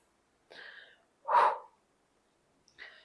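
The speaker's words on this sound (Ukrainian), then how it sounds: "Дихаємо." Breathing during leg exercises for varicose veins and swollen legs: three audible breaths, a soft inhale, a stronger forceful exhale, then another soft inhale, close and alone with no talk.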